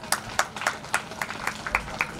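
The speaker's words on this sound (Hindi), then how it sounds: "एक बार जोरदार तालियां हो जाए" An audience at a religious gathering gives applause in honour of a visiting swami. About ten distinct, fairly faint claps are spaced across two seconds, with no voices over them.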